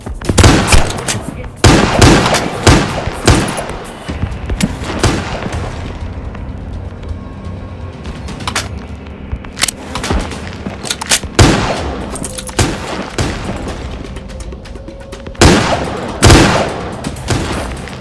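Loud bursts of gunfire in a shooting video game, with rapid volleys and single booming shots cutting through a dense mix of game noise at close range, some clustered, others spaced apart.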